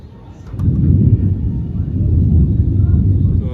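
Thunder rolls from heavy storm clouds during an evening of rain and lightning, a deep, sustained low rumble that swells after a quiet start and stays loud to the end.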